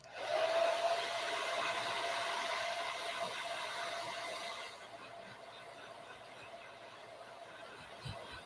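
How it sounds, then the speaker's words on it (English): A hair dryer blows in a hair salon: a loud, steady whooshing roar for about five seconds that then drops to a softer, continuing hiss. "somebody blow drying, so I can't really hear you, Erica"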